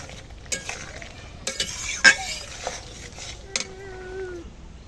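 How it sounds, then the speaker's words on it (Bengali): A spoon stirs a crab and taro curry in a pan, giving a few scattered scrapes and knocks against the metal over a faint simmer, with a sharper clank midway and a short squeak near the end. "ভালো করে মিশিয়ে নিয়ে আমি এখন তরকারি নামিয়ে নেব।"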